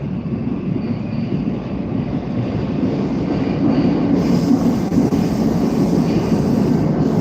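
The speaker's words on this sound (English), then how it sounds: "It's a refurbished train, I think." A refurbished early-2000s Moscow train running at night gives a steady, loud rumble of wheels on rail with a faint high squeal, continuous and close throughout with no voices.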